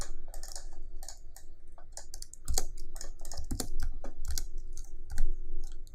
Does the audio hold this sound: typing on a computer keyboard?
yes